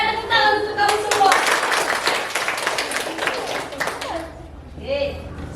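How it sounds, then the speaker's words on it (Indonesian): Students in a Year 8 civics class clap their hands together, a burst of close, lively clapping that fades after about four seconds, with voices speaking around it. "tepuk tangan untuk kamu semua."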